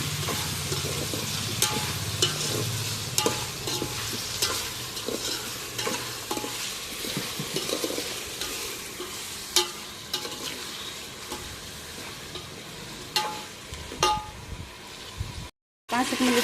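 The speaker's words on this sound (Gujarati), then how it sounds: "તો હવે થોડી વાર હલાવી સરસ રીતે થોડા બટેટા પડી જાય તેલમાં ત્યાં સુધી હલાવવાના છે." Potatoes frying in oil with turmeric as a spoon stirs them, a constant close sizzle broken by repeated metallic clinks and scrapes against the pot, with someone speaking over it.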